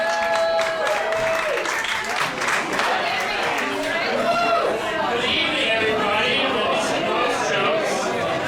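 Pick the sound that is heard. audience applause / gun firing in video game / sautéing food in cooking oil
audience applause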